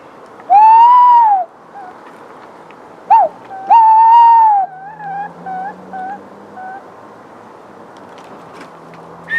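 A tawny owl in a garden aviary gives several clear, fairly close hooting and whistled calls, a long note followed by shorter broken ones, with no talking over it.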